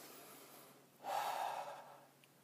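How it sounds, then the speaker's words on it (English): A single deep breath taken during a calming talk on emotional overwhelm, a soft airy intake swelling then fading over about a second, close and alone. "just take a nice deep breath"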